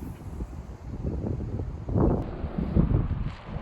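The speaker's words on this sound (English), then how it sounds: "It's basically like I'm getting an onshore wind and we're gonna cast into the wind." Onshore wind blows across a beach during surf casting, buffeting the microphone with a steady rough rumble that swells and gusts in the middle, moderately loud, with no talk.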